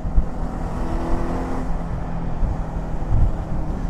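The engine of a Zongshen Cyclone RX3s motorcycle cruising in fifth gear makes a constant low drone under heavy wind rush, heard close and loud throughout with no talking.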